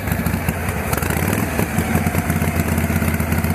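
A 1962 panhead chopper motorcycle engine idles close by with a steady, loping low-pitched chug and mechanical clatter, running unbroken and alone.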